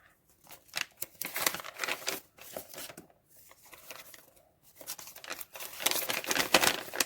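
Paper crinkles and tears up close as a small paper surprise packet is pulled open, in bursts of rustling with brief pauses between.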